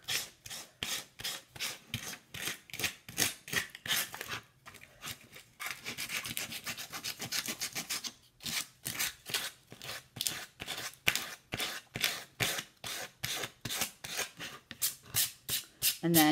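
Wooden craft stars are rubbed to distress them in quick, rhythmic rasping strokes, close and dry, with short pauses and a brief steadier scraping passage midway.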